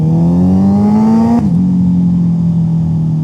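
A superbike with an aftermarket exhaust accelerates hard on a highway, its loud engine note climbing steadily, then the pitch drops sharply at a shift or throttle lift before holding at a lower steady drone.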